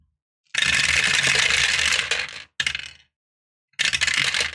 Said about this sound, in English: I'm rolling a whole fucking load of dice.